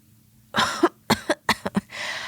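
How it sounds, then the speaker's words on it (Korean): A few forced, exaggerated coughs and throat clearings in quick bursts, close and fairly loud, with a rasping breath after. "다소 오버스럽게 헛기침을 하셨어요."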